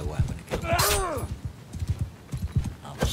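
Horse hooves clatter in the video game Mount & Blade Bannerlord, a quick rhythmic clip-clop running throughout, with a loud whinny rising and falling early on.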